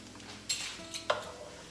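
Minced garlic stirred into onions in a pan gives soft scraping and light clinks of a utensil against the pan over a faint sizzle, quiet and close.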